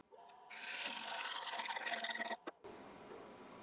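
A skew chisel used as a negative-rake scraper works a natural live-edge winged wooden bowl on a lathe. The close, rasping scrape runs for about two seconds and then stops, followed by a quieter hiss.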